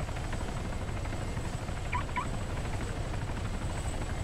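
A helicopter in the video game Arma 3 produces a steady, constant rotor and engine drone, a dense low rumble with an even level throughout and no speech.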